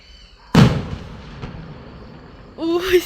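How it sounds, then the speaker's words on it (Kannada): A single sharp firecracker bang, loud and close, with a rumbling decay; a brief high voice or bird call follows near the end. "ಇಲ್ಲಿ ಯಾರೋ ಪಟಾಕಿ ಹೊಡಿದ್ದಾರೆ ಇವತ್ತು ಕ್ರಿಸ್ಮಸ್ ಅಂತ"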